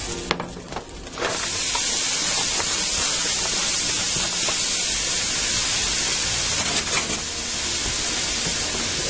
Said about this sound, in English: that onion that I chopped up, I'm going to saute that in here till it's cooked through and translucent